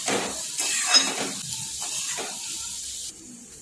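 A spoon stirs spices into moong dal pudla batter in a bowl, giving soft, close scraping and swishing strokes in short bursts with no talk.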